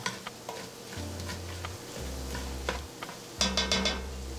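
Three tablespoons of flour being stirred into a hot pan, with a soft sizzle beneath scraping strokes and a few light clinks of utensil against pan, close and without talk.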